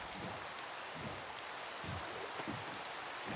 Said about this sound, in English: Is the rain going away?